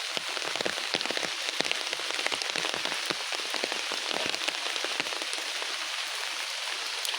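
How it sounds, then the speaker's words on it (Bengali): Heavy rain falls without a break in a continuous, dense hiss of drops hitting the ground and surfaces close by, with sharper individual splashes scattered through it. "আজকে সারাদিন বৃষ্টি থামছেই না"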